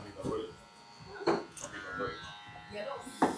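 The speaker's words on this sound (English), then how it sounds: "now I'm going to go back up here with the number 1. Concentrated clipper strokes." Electric hair clippers with a number 1 guard buzz in short strokes while cutting a child's hair, faint and close under someone talking throughout.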